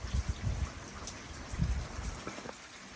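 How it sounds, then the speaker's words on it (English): Rain falls steadily at night in St. Charles, Missouri, as a warm front passes on a January evening, with soft, close, irregular pattering of drops on surfaces and no voices. "And this rain is associated with a warm front passing over the area."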